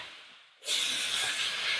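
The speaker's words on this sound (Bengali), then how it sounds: "আলু ভেজে নিচ্ছি" Potatoes frying in oil left from frying eggs: a sudden loud sizzle bursts in after a brief quieter hiss, then holds as a steady, bright frying crackle.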